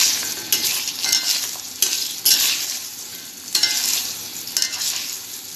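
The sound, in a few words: ash gourd frying in fish-frying oil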